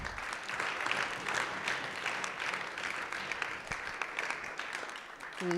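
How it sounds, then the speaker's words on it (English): A school audience at Gilman School claps for a guest speaker, a full, continuous round of applause with crisp individual claps, fading a little toward the close. "Let's give Patrick a round of applause."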